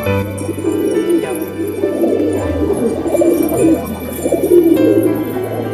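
Pigeons coo steadily at close range while eating biscuit, low rolling calls overlapping through the whole stretch against a faint steady hum.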